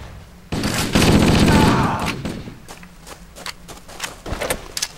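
Gunfire from a multiplayer shooter video game: a loud, dense burst of rapid automatic shots for about a second and a half, then scattered fainter shots and thuds, with voices briefly present.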